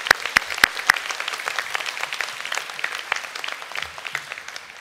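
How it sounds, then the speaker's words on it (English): Graduation ceremony audience bursting into applause, opening with a few sharp close claps before settling into a sustained, even patter of many hands that gradually thins. "I think all of you deserve a great round of applause for all of us."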